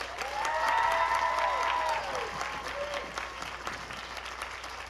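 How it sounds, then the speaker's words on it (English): Audience at a high school graduation ceremony applauding the speakers, a sustained burst of clapping that swells then gradually thins out, with some faint voices mixed in. "Let's give them all a huge round of applause."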